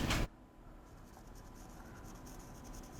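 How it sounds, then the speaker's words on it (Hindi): Writing an equation on a board in a lecture setting, a faint, steady scratching stroke that runs under a quiet room hum after a short opening noise, with no talking. "सबसे पहले तो हम प्लेन की इक्वेशन लिखते हैं।"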